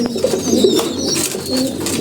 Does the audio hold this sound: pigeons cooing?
yes